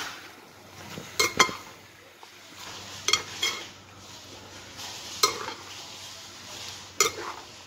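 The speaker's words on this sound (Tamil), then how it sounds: "இப்போ இந்த அரைச்சி வச்ச மசாலா, வதக்கி அரைச்சோம்ல அந்த மசாலாவை இதையும் போட்டு நல்லா மிக்ஸ் பண்ணிடலாம்." A spoon stirs ground masala into mushroom gravy in a pan, making several spaced bursts of scraping and clinking against the metal over a soft simmering background.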